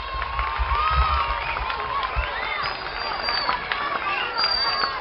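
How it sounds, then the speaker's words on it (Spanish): School assembly applauding a newly installed student representative, clapping mixed with cheering, whistles and children's shouts, lively crowd noise under scattered voices. "Pido para un fuerte aplauso."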